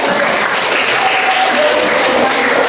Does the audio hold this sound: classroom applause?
yes